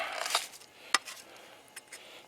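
Cooked meat being cut into pieces, a few faint, sharp knife-and-plate clicks and scrapes spaced irregularly, quiet and close with no talking.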